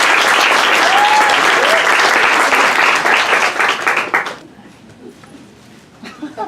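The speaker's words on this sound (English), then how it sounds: "let's give her a big round of applause" Audience at a book signing for author Richelle Mead breaking into loud, dense applause for about four seconds, then quickly dying away to a few scattered claps and quiet room noise.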